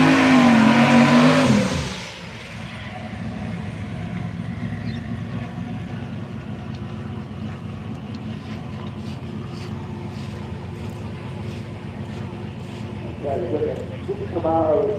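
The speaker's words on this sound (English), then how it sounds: "we've got the Armstrong Automotive Camaro back out for another go" Armstrong Automotive Camaro drag car at a Street Machine Drag Challenge, a loud engine burst that falls to a steady distant drone for most of the run, then rises again near the end, with crowd talk and commentary underneath.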